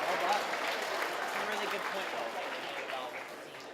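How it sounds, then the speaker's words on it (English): A seminar audience at a meeting-professionals talk gives a round of applause, a dense crowd clapping that stays steady and gradually fades slightly, with some voices mixed in. "Round of applause for everybody."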